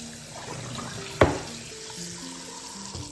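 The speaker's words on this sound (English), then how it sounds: "Add little water." Water is poured into a cooking pot while making jollof rice, a single short splash followed by a faint sizzle in a quiet kitchen.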